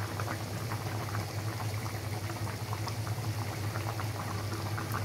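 Small fish frying in a pan of hot oil, a steady close sizzle with dense crackling and popping that holds at the same level throughout, with no voices.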